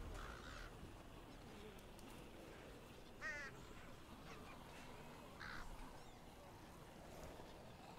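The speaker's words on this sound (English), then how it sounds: "Just those fucking crows." Crows cawing in The Walking Dead: Michonne video game, a few short harsh calls rising out of a steady low ambient bed of wind and water, moderately distant and alone without talk.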